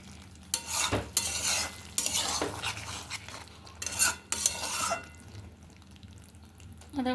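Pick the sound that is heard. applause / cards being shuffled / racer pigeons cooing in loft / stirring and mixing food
stirring and mixing food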